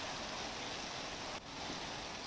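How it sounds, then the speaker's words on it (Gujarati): Heavy monsoon rain falling in Shamlaji, a dense, even hiss of downpour with no breaks, steady and fairly distant, with no voices. "આજ વહેલી સવારથી શામળાજીમાં ધોધમાર વરસાદ વરસી રહ્યો છે"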